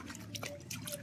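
Water sloshing and dripping as conch meat is rinsed by hand, a soft, close splashing over a short moment.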